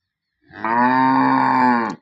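A single loud, close cow moo from freshly calved dairy cows on a farm, a sustained tonal low call lasting over a second that rises in and fades out cleanly against otherwise quiet surroundings.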